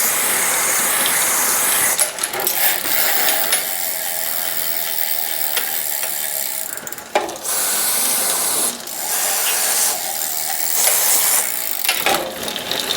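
A bicycle's sticky freewheel hub ratchets in rapid, loud clicking runs heard up close, broken by a few short pauses as the wheel stops and starts again, with no voices.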